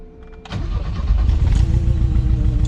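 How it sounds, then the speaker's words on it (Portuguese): A supercharged Chevrolet Chevette engine cranks briefly, then catches and settles into a loud, steady rumbling idle. "Eu vou ligar o carro aqui"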